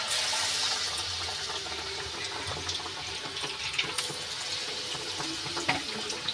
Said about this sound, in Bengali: এবার আমি কুমড়োটা ভাজছি।